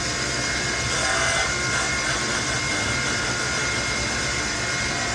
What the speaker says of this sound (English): We'll just grind the cap square.